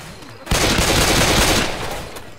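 Machine-gun fire in Left 4 Dead 2: loud, continuous automatic bursts that start abruptly after a brief quiet lead-in and rattle on steadily before easing slightly at the end.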